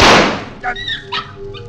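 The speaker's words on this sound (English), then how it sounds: "Oh, a dog. Only a dog." Dog sound effect in a 1947 radio drama: a brief, close dog whimper with a few short tonal yelps after a loud opening burst, heard alone without talk.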